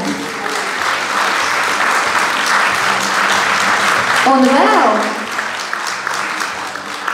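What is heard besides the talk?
applause for Ārija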